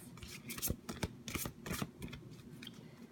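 Guidance cards being shuffled and pulled from the deck, a run of crisp riffling and sliding bursts, close and fairly quiet, with no talking.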